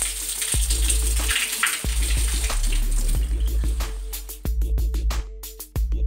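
Dirty juice from a refrigerator drip pan being poured away into a sink, a close, loud splashing pour broken by brief pauses and clunks toward the end.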